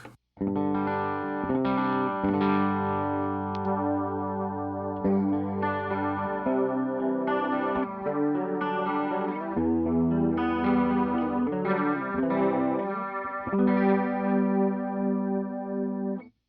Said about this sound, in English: right now I have this set to MXR ALG chorus, meaning the MXR analog chorus